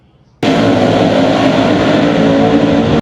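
World of Outlaws NOS Energy sprint race cars at Lernerville Speedway during the Don Martin Memorial Silver Cup: a sudden, loud, sustained engine roar that cuts in and holds steady for nearly three seconds, then stops abruptly.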